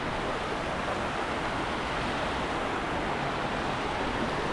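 A steady, dense roar of rushing water from Zenith Waterfall, a forest waterfall near Khopoli in the monsoon, fills the whole stretch, constant and loud and close, with no voices.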